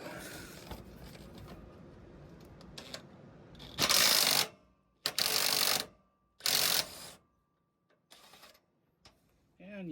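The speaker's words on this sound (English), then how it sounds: "I'm gonna try this adjustable wrench real quick and see if this is gonna function." An adjustable wrench turning on a rear shock bolt of a 2020 Ram 3500 dually longbed, heard as several bursts of rapid ratcheting clicks separated by short pauses, after some quieter rustling.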